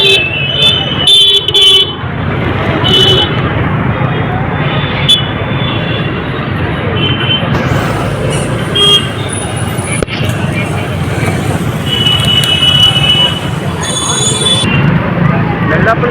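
Cars honk in a busy market street, giving a few short horn toots spread across a loud, dense wash of traffic and crowd noise, with people talking throughout.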